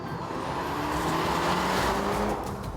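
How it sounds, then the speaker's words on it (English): A 2014 Volkswagen Golf R's two-litre four-cylinder engine roars steadily with a deep exhaust note from quad tailpipes, sustained and loud throughout, with no talking. "the noise from the quad tailpipes is still very pleasing, especially when the car is in race mode"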